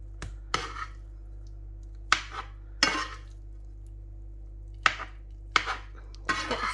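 A spoon scoops potato masala filling for aloo samosas, with a series of sharp metallic scrapes and clinks against a bowl in short bursts, separated by quiet gaps over a low steady hum.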